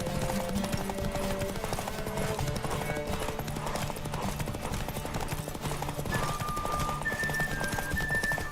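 Horse hooves clip-clop in a steady galloping rhythm in The Witcher 3 video game, running continuously at moderate loudness alongside game music tones, with no talking.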